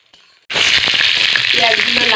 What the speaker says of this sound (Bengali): এবার দিয়ে দেবো পেঁয়াজটা আমি লাল লাল করে ভেজে নেব।